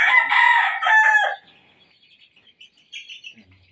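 A gamefowl rooster of NUDC bloodline lets out one close, loud crow of about a second and a half, followed by faint scattered chirps in a quiet yard.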